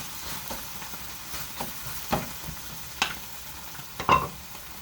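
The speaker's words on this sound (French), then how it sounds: "On mélange bien ces oignons avec ces péquillos." Onions and piquillo peppers are stirred in a hot pan, a soft continuous sizzle broken by several distinct spoon scrapes and knocks against the pan, close up with no voices.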